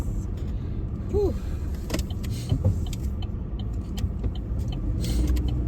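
Truck cruising along a road, a steady low rumble of tyres and engine from inside the cab with a few faint clicks and rattles, no speech.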